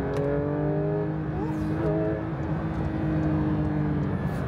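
Supercar engine pulling hard on a Dubai street, a loud sustained roar with rising and falling pitch as it accelerates, heard close from inside the car.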